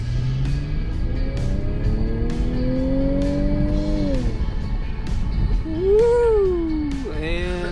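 A Ford car accelerates hard on a speedway at a dealer drive event, engine pitch climbing steadily over a loud, continuous roar, then dropping and rising again with a higher whine near the end.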